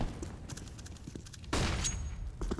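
Grenades going off in a Counter-Strike match on Mirage, with scattered gunfire and footsteps giving way to a sudden loud blast that hisses and rumbles for about a second, then more shots and clatter.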